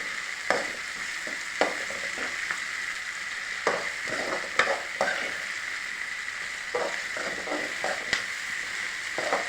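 Tomatoes sautéing in a pan for a Tamil home-style kuzhambu, with a steady low sizzle broken by repeated sharp scrapes and clinks of a spoon stirring against the pan, close and clear, no talking.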